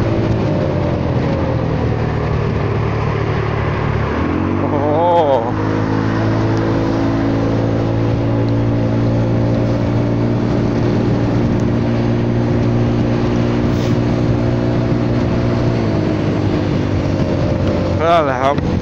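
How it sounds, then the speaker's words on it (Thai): Honda Forza 300 scooter engine idling steadily, with the throttle blipped up sharply around five seconds in and again near the end, held at a raised drone in between, with voices talking faintly over it. "ขอบิดเร่งไปหน่อย"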